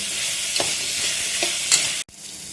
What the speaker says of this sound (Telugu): అది వేసుకుని అది కూడా ఒక 10 మినిట్స్ వేగనివ్వాలండి